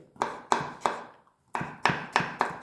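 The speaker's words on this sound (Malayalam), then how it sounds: "ഇഞ്ചി ഒരു കഷ്ണം, വെളുത്തുള്ളി 10 അല്ലി, അത് ചെറുതാക്കി അരിയുക." Knife chopping ginger and garlic on a board for a chicken roast: seven sharp, close chops in two quick bursts separated by a brief pause.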